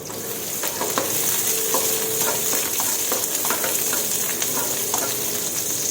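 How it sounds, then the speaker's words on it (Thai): Garlic and bird's eye chilies are stir-fried in hot oil in a pan for a Thai cabbage dish, with a steady, bright sizzle and occasional scraping stir strokes, close and continuous. "ผัดกระเทียมให้เหลืองหอมค่ะ"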